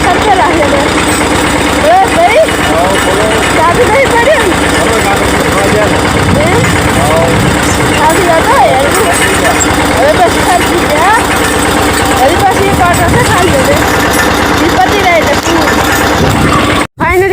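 A heavy tractor diesel engine runs steadily throughout, a low rumbling idle with voices talking over it, cutting off abruptly at the very end.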